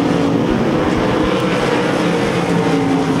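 Sprint cars roar down the back straightaway at Devil's Bowl Speedway amid lap traffic, a steady loud engine drone with passing surges and no talking.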